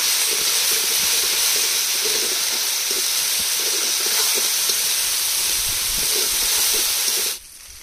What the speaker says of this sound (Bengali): মশলাগুলো খুব সুন্দর করে কষিয়ে নেব।